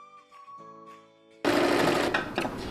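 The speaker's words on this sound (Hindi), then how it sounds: "इस तरह आपको बस सिलाई डालते हुए दूसरे पार्ट तक कंप्लीट कर देना है।" Sewing machine stitching the seam of a pair of trousers, starting after a quiet moment and then running loud and steady close by, with no talk.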